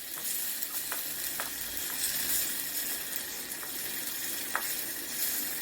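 A poured-in egg curry mixture sautés in a pan, giving a steady broad sizzle with occasional scrape and clink of a stirring spoon, close and continuous.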